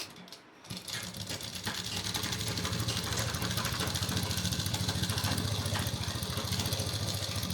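A sewing machine runs steadily while double-stitching fabric for a pocketed undergarment, a fast even mechanical chatter close by that starts after a short pause and continues without talk.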